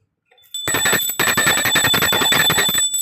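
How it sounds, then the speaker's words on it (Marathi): A handheld brass puja bell rings rapidly and continuously during a Navratri Navami Khandeshri worship in Sindhudurg, a bright, sustained metallic jangle, close and loud, with no talking. "घंटा वाजवायची नमस्कार करायचा मनोभावे"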